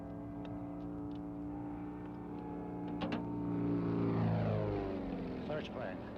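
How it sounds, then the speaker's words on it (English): A search plane passes overhead, its propeller engine droning and swelling in loudness before fading, heard at a distance over a steady low background hum. "Search plane."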